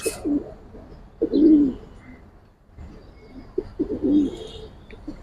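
Domestic pigeons cooing in a loft, several low throaty coos in two rounded bursts close to the microphone, with faint rustling between them and no talking.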